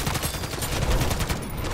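Rapid automatic gunfire in the video game Modern Warfare Zombies, a quick continuous string of loud, close shots with no talking.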